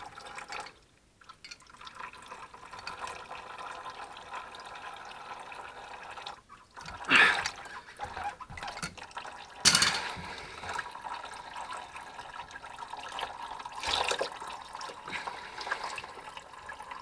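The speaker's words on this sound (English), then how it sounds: "So we'll just let our heater core drain." Coolant draining from a Porsche Boxster heater core, a faint steady trickle and drip with a few louder splashes along the way.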